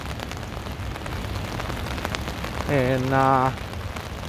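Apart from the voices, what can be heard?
rain falling on a city street in Chicago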